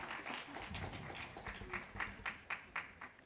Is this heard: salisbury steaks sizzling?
no